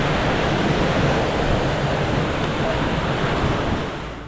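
Rushing water at the Vandoies waterfall in the mountains, a loud continuous broadband roar close by, steady and dense, easing slightly at the very end.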